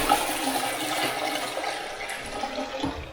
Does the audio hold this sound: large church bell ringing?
no